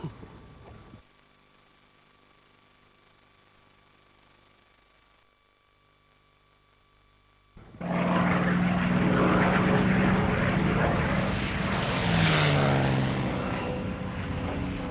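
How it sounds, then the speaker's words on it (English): Spitfire and Messerschmitt warplanes fly a mock Battle of Britain dogfight at a Texas air show, their propeller engines roaring in loud and sustained after several seconds of quiet hum. "The Battle of Britain, Spitfire versus Messerschmitt, is frequently fought again above the playing fields of Texas."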